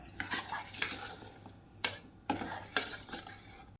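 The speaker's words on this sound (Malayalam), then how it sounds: "എന്നിട്ട് ഇത് നല്ലതായിട്ടൊന്ന് ഇളക്കി കൊടുക്കാം" Semolina and milk stirred together in a bowl with a spoon: about six brisk, close scraping strokes in an irregular rhythm, with no voices.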